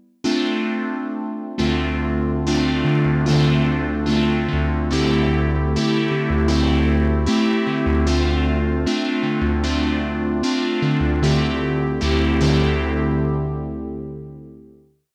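A Hydrasynth synthesizer patch with per-voice detuning and filter variation plays a sustained series of bright, buzzy chords, struck roughly once a second with a steady low drone underneath, loud and continuous for about fifteen seconds.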